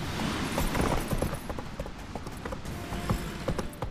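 Horse hooves pound at a gallop in The Witcher 3, a dense run of thuds layered with creaking tack and game noise.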